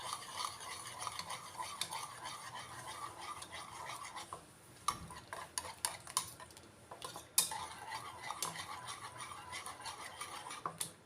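Eggs with coriander leaves and salt being beaten with a utensil for a bread omelette, quick light clinking and scraping strokes against a bowl, close and fairly soft, with a short pause midway.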